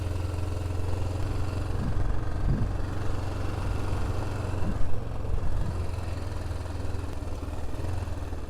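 A Yamaha Ténéré motorcycle sits stopped on the Transamazônica with its engine running, a steady low idle rumble throughout and a few brief throttle blips rising from it, close and continuous with no talk.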